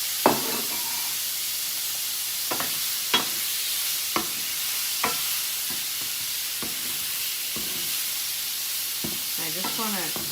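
Shrimp coated in Creole seasoning frying in oil in a pan, a steady bright sizzle throughout with occasional clanks and scrapes of stirring close by.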